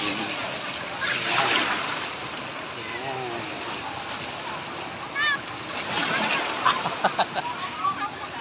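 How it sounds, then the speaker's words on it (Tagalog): Strong sea waves washing and splashing onto a beach during a group outing, a continuous surf roar with bursts of splashing, while people talk nearby and voices rise over the water. "May alon, malakas ang alon."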